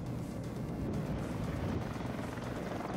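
A helicopter in the strategy game WARNO gives a steady, continuous rotor and engine drone, close and even throughout, with no pauses and no talking.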